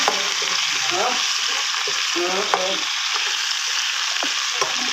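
Shrimp fried rice stir-fried in a hot pan outdoors, a loud continuous sizzle with repeated scraping and tossing strokes of the spatula close by.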